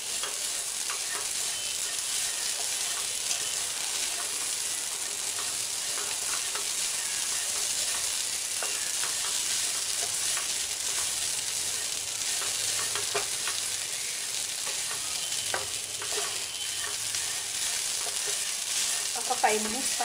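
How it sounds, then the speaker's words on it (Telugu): Gherkins (ivy gourd) and grated coconut fry in a pan with a steady, bright sizzle and occasional soft stirring scrapes, continuous and close throughout with no talking. "2 మినిట్స్ వేగిన తర్వాత మనం ముందుగా తరిగి పెట్టుకున్న కొబ్బరిని కూడా వేసుకోవాలి."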